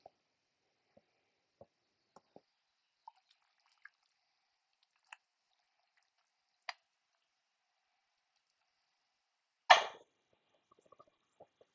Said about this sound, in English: Get that water squeezed out of that beef